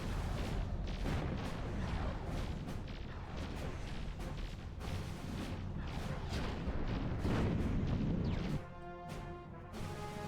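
Ships trading weapons fire in the space combat game Nexus: The Jupiter Incident, a dense and continuous run of loud crashing impacts and booms that ends in a ringing tonal hum.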